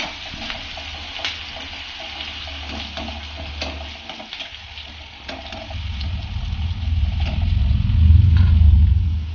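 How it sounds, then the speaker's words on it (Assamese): Onions frying in a pan in a home kitchen give a steady, close sizzle broken by stirring scrapes, with a low rumble that grows louder toward the end. "পিঁয়াজখিনি ভালকে ভাজি লওঁ।"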